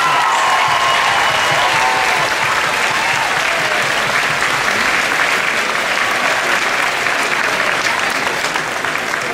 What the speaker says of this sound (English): So let's all give him a round of applause.